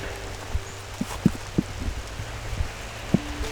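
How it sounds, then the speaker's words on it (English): Steady rain falling outdoors in an old cemetery, a constant wet hiss with scattered soft drops and low thuds, fairly close, with no talking. "And the rain is coming again."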